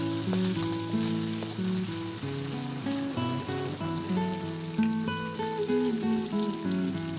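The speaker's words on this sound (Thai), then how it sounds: "ใช้ไฟร้อนปานกลางแล้วผัดพริกแกงจนสุกหอมนะคะ" Curry paste stir-fries in a pan over medium heat for a foxtail palm fruit dish. A steady, close sizzle runs throughout under background music.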